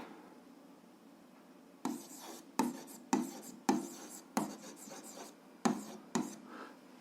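Writing out a 7th-grade algebra exercise solution: a series of short, scratchy strokes in separate bursts about half a second apart, close and fairly quiet, with no talking.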